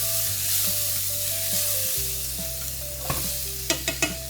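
Onions and mushrooms browning in a frying pan, a steady broadband sizzle with low tonal hum underneath, and a few sharp scrapes and clicks of stirring near the end; no talking.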